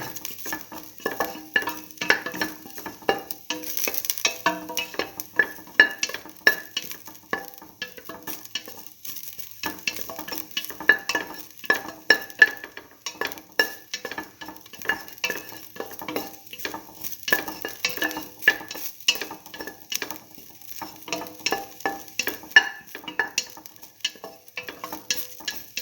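A pot of potato and split mung bean stew is sautéed. Continuous soft frying hiss sits under frequent rhythmic scrapes and clinks of a utensil against the pot, close and moderately loud, with no talk.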